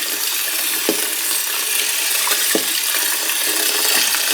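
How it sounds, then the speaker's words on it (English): Nanking cherries being washed by hand in ice cold water, a steady splashing and swishing of water with a few brief clicks and knocks, close and continuous throughout. "Give them a good nice wash in ice cold water."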